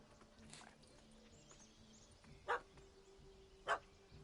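A dog in The Witcher 3 barks at a cat stranded up a tree, giving two sharp, separate barks over quiet game ambience.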